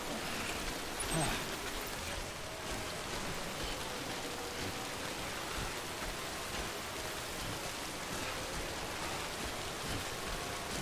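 Steady, dense rain hiss in the video game Death Stranding fills the whole scene at an even level, with a soft splashy texture and a brief louder patch early on.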